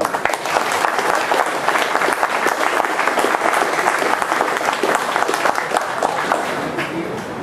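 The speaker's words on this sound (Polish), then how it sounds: "Wielkie brawa dla Staszka." Audience applause for Staszek at the Republican Foundation's second anniversary celebration, a dense, steady crowd clapping that holds loud and even throughout without a break.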